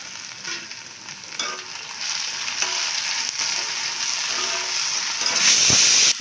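Chopped tomato sautéing in a pan while preparing a wedding-style vatha kuzhambu, a steady loud sizzle with scraping stir strokes, intensifying toward the end.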